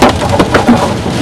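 Large hail pounds a car windshield during a storm at Last Chance, Colorado, a loud, dense, continuous barrage of hard impacts with sharper individual hits standing out.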